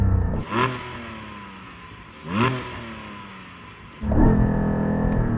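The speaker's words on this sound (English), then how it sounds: "So I'm going to start off with this Cayman GT4 4-litre naturally aspirated flat-six." A Porsche Cayman GT4 with a 4-litre naturally aspirated flat-six revs hard three times against a soft limiter, each sharp blip climbing and falling, with the last rev held at a steady high drone, loud and close.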